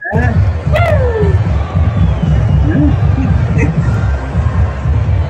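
A large outdoor crowd at a Trump rally in Butler creates a dense, continuous babble of many voices, with occasional louder shouts and calls rising above the noise.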